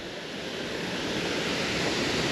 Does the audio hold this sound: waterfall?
yes